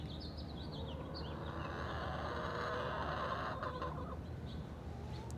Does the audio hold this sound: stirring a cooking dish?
no